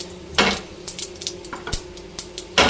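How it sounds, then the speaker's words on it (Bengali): A metal spoon stirs cumin seeds and bay leaves in hot oil in a pan. It gives irregular clinks and scrapes against the pan over a quiet background, with a sharper knock near the start and another at the end. "এবার ভালো করে একটু জিরে তেলের সাথে একটু নেড়ে নেব"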